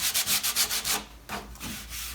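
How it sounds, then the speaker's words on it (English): Sandpaper rubbed by hand along the rounded edge of a wrapped custom control deck for an Arcade1Up cabinet, giving about eight quick, even back-and-forth scrapes followed by slower, longer strokes, close and clear with no talking. "go ahead and do a little sandpaper on here and smooth this out a bit"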